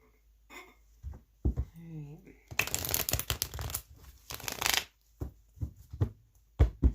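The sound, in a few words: shuffling tarot cards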